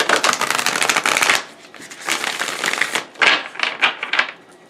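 Oracle cards shuffled by hand for a tarot reading, a loud riffling flutter in several bursts separated by brief pauses, close up with no talking.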